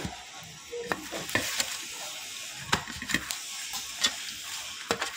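Parathas frying in a pan, with a busy crackling sizzle broken by sharp pops and spatters that recur through the stretch, at moderate closeness and with no voices.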